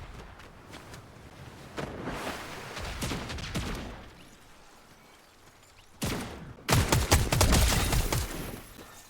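Gunfire bursts in a Fortnite match, a scattered fusillade of shots at moderate distance that swells into a louder, denser volley near the end, with no talk.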